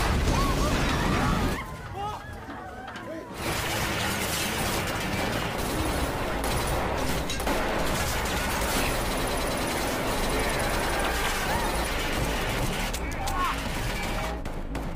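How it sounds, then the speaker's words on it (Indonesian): A shootout between robbers and armed troops in a TV heist drama, with dense continuous gunfire and bursts at close range that fill the scene after a brief lull near the start. "Mereka pun akhirnya terpaksa adu tembak dengan para pasukan itu."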